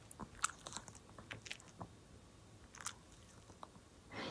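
An eleven-year-old pet chewing and biting through its medicine, with soft, irregular crunching and mouth sounds close by and no talking.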